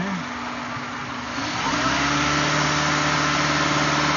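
A car engine runs steadily during an at-home intake system cleaning with a spray can. The close, loud hum climbs in pitch and strength partway through as the revs are raised.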